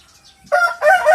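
Rooster crowing: a short, loud, close cock-a-doodle burst in two rising parts, with no speech around it.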